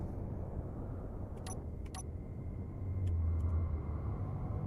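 Vehicle thrusters in the video game Space Engineers, heard as a steady low mechanical rumble that swells louder partway through, with a few brief clicks above it.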